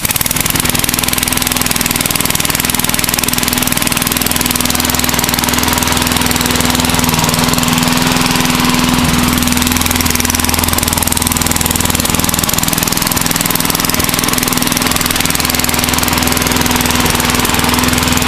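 A gas lawn mower engine runs at a steady pace, loud and close, with a continuous throbbing drone and no pauses or voices throughout.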